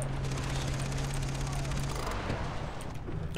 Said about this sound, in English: All that wide open space allows for heavy gunfire.